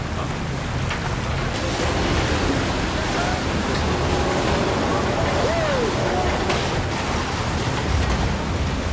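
Windy seas wash around a snow crab fishing boat, a constant loud roar of surf and wind with no breaks, spray and rushing water filling the whole stretch.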